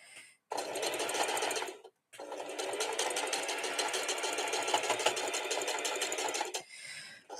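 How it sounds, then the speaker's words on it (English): Sewing machine stitching steadily in two long runs with a rapid, even mechanical rattle, close and fairly loud, separated by a brief stop; no talk. "my sewing machine is taking care of this like a champ"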